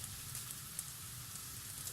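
Bitter gourd sizzling in a hot pan, a steady, even crackle and hiss of frying that holds at moderate loudness throughout with no talking.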